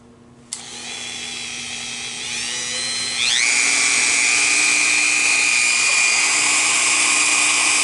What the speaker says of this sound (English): So I have the Dremel 4300 here that I'm using.